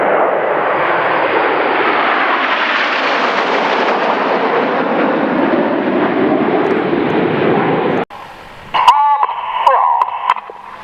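Red Arrows jets sweep past in formation at an RAF Waddington air show, a loud sustained roar lasting about eight seconds before cutting abruptly to quieter crackling and distant engine noise.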